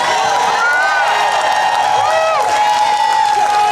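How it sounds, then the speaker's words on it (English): A rally crowd against hate in Jacksonville, Florida cheers, whoops and applauds continuously, loud and close, with shouted voices rising over the steady roar. "let's give Jamil one more round of applause"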